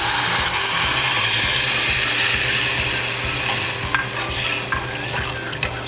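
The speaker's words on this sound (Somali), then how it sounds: "bariiska waad shiilaysaa, marka ku shiilmo waxyar barar ku darso" Rice frying and being stirred in a pan: steady sizzling hiss with scraping stirs and occasional clicks of a utensil against the pan.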